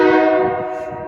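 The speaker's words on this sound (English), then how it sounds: "here she comes, folks. Union Pacific. Approaching Oakland Jack London Square on track 3." An approaching Union Pacific freight train near Oakland's Jack London Square sounds its horn in one loud, sustained multi-tone blast that fades slightly toward the end, close and alone.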